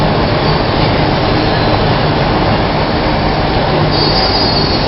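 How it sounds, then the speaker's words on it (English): A long subway train rolls steadily past, giving off a loud, continuous rumble and rush of wheels on rails with high squealing, and no voices over it. "It's a long ass train."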